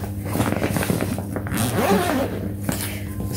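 Zipper on a Jujube Core Convertible bag with faux leather trim and metal hardware, pulled close up in a run of scratchy zips that last about three seconds.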